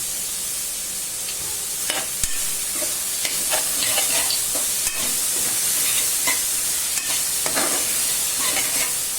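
Vegetables sautéed with salt in a pan for a mixed veg sabzi: a steady sizzle broken by repeated spatula scrapes and clinks against the pan at an irregular rhythm, close and fairly loud, no talking.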